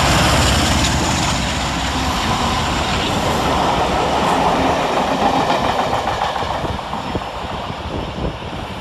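A Class 47 diesel locomotive rumbles through Stafford railway station close by, a loud continuous roar with rattling and clacking wheels that slowly fades a little.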